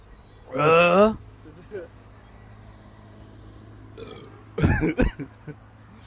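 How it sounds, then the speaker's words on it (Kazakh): Two loud, drawn-out burps close by, separated by a few seconds of quiet, the second broken into several gurgling bursts. "кім ең қатты кекірді?"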